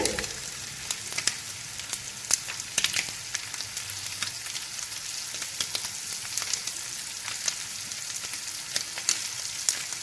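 Curry leaves crackle in hot oil, with a bright continuous sizzle broken by frequent sharp pops and spits, close and fairly quiet, while shrimp fry is being prepared.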